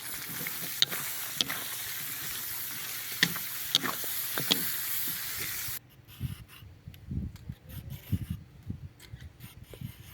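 Lamb meat and onions for kuyrdak fry in a kazan, giving a steady sizzle with sharp crackles and spits, then a quieter stretch of scraping, stirring strokes.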